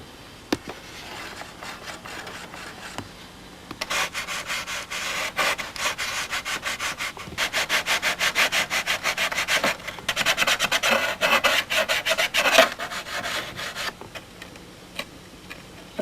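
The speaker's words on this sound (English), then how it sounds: "I'm going to dress all these edges off" Hand filing or sanding to dress the rough-cut edges of a canopy opening on a Spitfire model, with steady rhythmic rasping strokes in repeated bursts, close and fairly quiet, with no talking.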